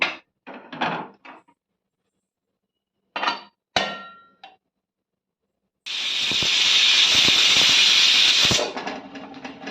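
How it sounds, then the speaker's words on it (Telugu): After a few brief knocks and clinks, a pressure cooker holding jackfruit on a medium flame lets out one loud, sustained hissing whistle lasting about three seconds, then cuts off. "స్టవ్ వెలిగించుకొని మీడియం ఫ్లేమ్లో పెట్టుకుని 4 విజిల్స్ రానివ్వాలి"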